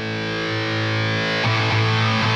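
Electric guitar through a YAKL Pedals Bueno Treble Booster (Rangemaster/Beano style) cranked to full distortion, sustaining a thick, buzzy chord that is restruck partway through, loud and close with no voice.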